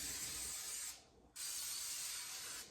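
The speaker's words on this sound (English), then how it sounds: "spray the muffin tins really well" Cooking spray hisses onto muffin tins in a home kitchen, two close bursts of aerosol broken by a short pause.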